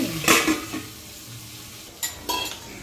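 Raw vegetable pieces fry in a pan, with a couple of short sizzling stirs and scrapes at the start and end over a quiet faint hiss, no talking.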